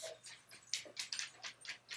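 A dog whimpers and yelps in a quick series of faint, high-pitched bursts, about eight short cries in two seconds, in an otherwise quiet room.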